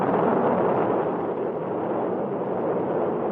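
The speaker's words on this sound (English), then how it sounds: "the power plants of far more advanced aerospace systems undergo the same kind of careful evaluation at the Air Force Rocket Propulsion Laboratory" Rocket engine test firing at the Air Force Rocket Propulsion Laboratory, a continuous broad roar with no breaks, loud and steady, slowly easing a little over a few seconds, with no voices.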